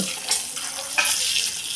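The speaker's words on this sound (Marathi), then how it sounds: "ही मिरची आता चांगली त्या फोडणीमध्ये तळेपर्यंत" Hot tempering oil sizzles and crackles steadily, with a couple of sharper spits and pops as green chilies fry in the pan.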